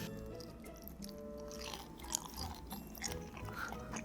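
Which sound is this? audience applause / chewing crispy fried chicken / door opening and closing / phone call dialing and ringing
chewing crispy fried chicken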